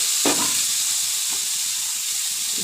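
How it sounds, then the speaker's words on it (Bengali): Fried eggplant pieces go into a pan of spiced masala for a hilsa and eggplant curry, landing with a sharp burst of sizzling, then a steady hiss and light stirring. "এইবার দিয়ে দেবো বেগুনগুলো ভাজা বেগুনগুলো"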